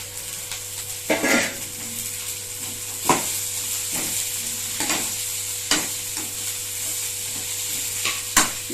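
Broad beans stir-fried in a pan for a Tamil bean and egg poriyal, with a steady sizzle and periodic scraping stirs of a spatula against the pan, each stroke a short bright rasp roughly every second or two.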